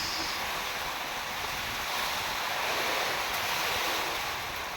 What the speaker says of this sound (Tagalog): nakikita nyo naman kung gaano yung kalakas ang ulan at hangin